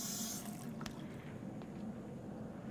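Hot water running from a tap in a lodge in the video game Until Dawn, a steady close splashing stream with a brief sharp knock near the start, no talking.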